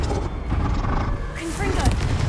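Confringo, Incendio and Glacius spells cast in the video game Hogwarts Legacy, a dense run of booming blasts and crackling magical effects layered together, loud and continuous for a couple of seconds.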